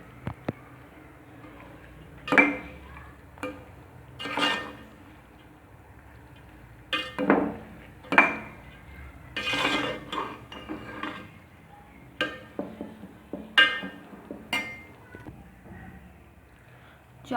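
A spoon mixes jaggery rice (gur wale chawal) in a pot, giving a series of sharp, irregular metal clinks and knocks against the pot's sides over a low, quiet background.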